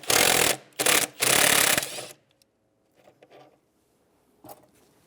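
Socket wrench with a 10mm socket loosening a mounting bolt on a 1999-2004 Jeep Grand Cherokee engine, three loud close ratcheting bursts followed by faint clicks and small handling noises.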